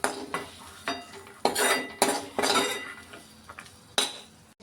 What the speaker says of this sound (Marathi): आता हे सगळं मसाला आहे मी ह्या प्लेटमध्ये काढून घेते